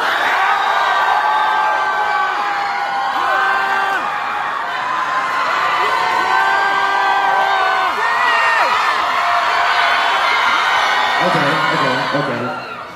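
A concert crowd at a live show at Banquet Records / Pryzm in London cheers and whoops loudly and continuously as an applause vote, with many overlapping shouting voices.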